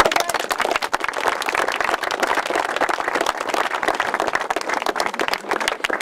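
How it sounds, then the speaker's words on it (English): A crowd of parents and spectators claps steadily at a presentation after an under-15 A Shield final against Young Irelands, forming dense, continuous applause for about six seconds with no break. "the parents deserve a very good round of applause"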